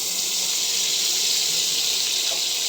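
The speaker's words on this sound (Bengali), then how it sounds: "কড়াইটা আমার গরম হয়ে গেছে তো এখানে দিয়ে দেবো বাটার" A steady, even hiss of butter melting in a hot wok, continuous and fairly loud with no talking.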